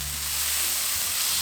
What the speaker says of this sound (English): Now I have to flip the steak.